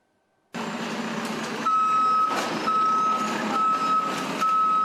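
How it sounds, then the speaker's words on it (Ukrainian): Municipal service trucks at work in a city after a shelling attack, with a sharp reversing beeper sounding in regular repeated pulses over a steady, close diesel engine rumble. "звідусіль чути, як працює комунальна техніка"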